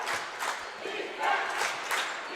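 Crowd noise at a high school boys basketball game between Caribou and Hermon, a steady roar of cheering voices in an indoor gym with swells of louder shouting.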